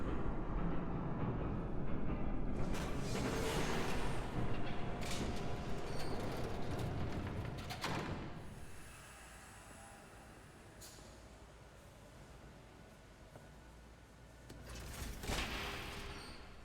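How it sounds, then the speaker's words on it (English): A train rumbles past in the video game Batman: The Telltale Series, a loud rolling clatter with rhythmic wheel thumps that fades into a low rumble before swelling briefly again. "There's a train coming. Take cover."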